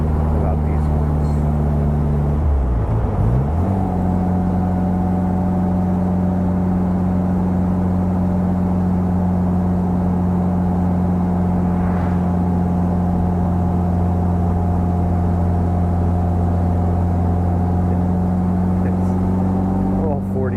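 A 1960 Bugeye Sprite's 45 hp engine drones loud and steady from inside the car, dipping briefly as the revs drop and recover early on, then holding an even, constant hum to the end.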